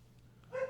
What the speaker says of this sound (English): Sorry about the barking dog.